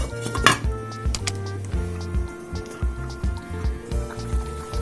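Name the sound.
lid placed back on pot of meatballs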